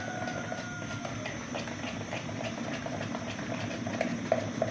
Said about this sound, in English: my water is almost boiling.